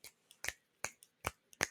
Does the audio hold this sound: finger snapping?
yes